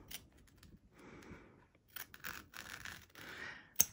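Scissors snip fabric held in an embroidery hoop, trimming close to machine stitching on a comic-book-panel zip bag; a few quiet, close crunchy cuts with soft rustling between them.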